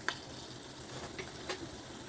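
Chana dal, urad dal, cumin and mustard seeds crackling in hot oil for a tempering, a faint steady sizzle with a few small pops.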